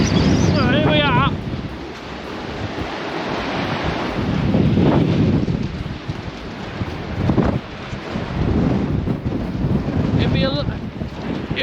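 Strong wind in Iceland roars and buffets the microphone in heavy gusts, loud and constant, with faint chirping sounds briefly audible beneath it.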